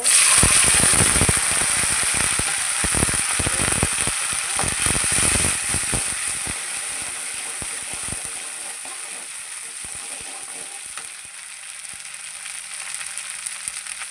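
Crab gravy ingredients with fennel seeds sauté in a pan, giving a loud, steady close sizzle with dense crackles and scrapes over the first half that thin out into a quieter continuous hiss.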